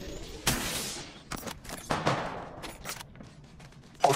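Gunfire bursts in Apex Legends Mobile: several sharp broadband shots and short volleys spread across a few seconds, moderately loud, with a last crack at the very end.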